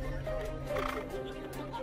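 Racehorses neigh and whinny at a racetrack before entering the starting gate, a steady close call with a busy background of crowd and track noise.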